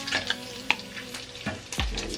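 Bacon fries gently in a pan over low heat, a soft close sizzle broken by a few sharp scrapes and clatters of stirring, with a louder clunk near the end.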